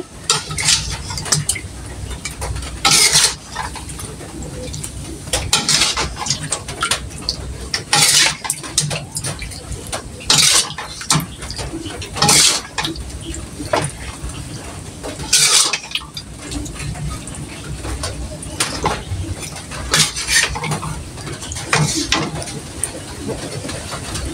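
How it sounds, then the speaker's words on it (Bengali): A ladle serves curry into dishes, producing repeated metallic clinks and scrapes against pots and plates at irregular intervals, close by, with faint voices and background noise between the clatters. "এই যে এখন হচ্ছে আমি তরকারি বেড়ে নিচ্ছি"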